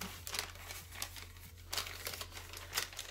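Paper is creased and folded into an origami Santa crane, giving soft, close crinkles and brief rustling sweeps at irregular intervals against a quiet background hum.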